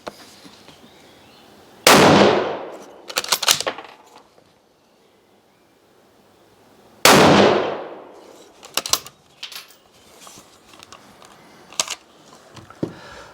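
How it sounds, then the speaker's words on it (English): Suppressed rifle shots fired into a backstop through a single-baffle suppressor, two sharp loud cracks a few seconds apart, each followed by clattering echoes and small knocks. "So that's just 3 shots into the backstop"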